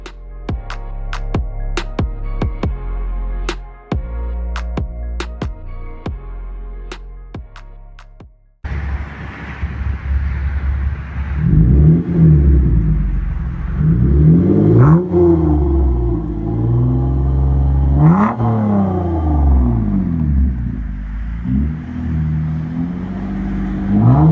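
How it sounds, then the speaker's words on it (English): After a short musical intro, the V6 exhaust of a 2015 Toyota Camry with a Street Demon cat-back split dual exhaust rumbles and revs repeatedly, deep and loud, rising and falling in pitch with each throttle blip. "Interior tone level is mild with this Street Demon split dual exhaust."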